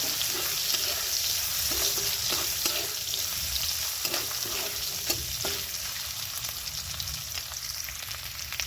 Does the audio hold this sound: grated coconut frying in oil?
yes